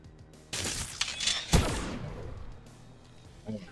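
Gunfire bursts in XCOM Long War of the Chosen: a fusillade of sharp shots and a heavy boom rattle close and loud, then fade.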